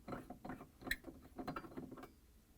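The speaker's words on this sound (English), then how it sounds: "Now I'm going to take out the bulb, turning it counterclockwise." Light bulb being unscrewed counterclockwise from the socket of a Whirlpool refrigerator, a series of quiet close scraping and ratcheting clicks in irregular bursts, with no talk.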